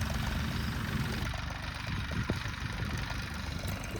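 A tractor engine running steadily with a low, continuous rumble and drone, heard from moderately close in a jowar field during harrowing, with no voices.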